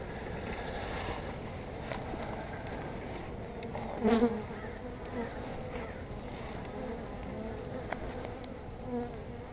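Honeybees hum and buzz continuously during a swarm hive inspection as frames of open and capped brood are handled, a soft steady drone with a brief louder burst of buzzing partway through.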